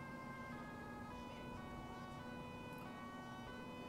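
Ambulance siren in Grand Theft Auto V with the LSPDFR police-patrol mod, a steady electronic wail held at a faint, distant level across the whole few seconds with no talk over it.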